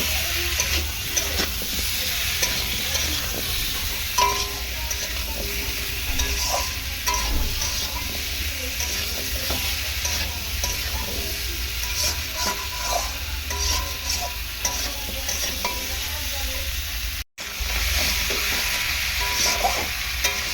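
Eggplant and taro stems stir-fried in a pan, a loud continuous sizzle with steady scraping and stirring over twenty seconds, broken by a brief dropout.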